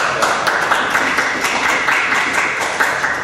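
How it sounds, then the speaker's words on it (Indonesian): Audience clapping at a forum on Indonesian import tariffs, a steady, moderately loud patter of many hands with audible individual claps, continuing throughout without talk. "Mari kita berikan tepuk tangan."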